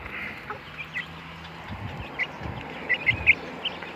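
Young chicks and growing cockerels in a backyard flock, soft clucks and peeping calls scattered over a quiet background, a few sharper chirps clustered near the end.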